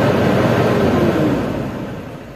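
Diesel engine of a Toyota Innova running steadily at about 3000 RPM with its turbo, a loud, continuous broadband roar close by that eases slightly toward the end, with no talk.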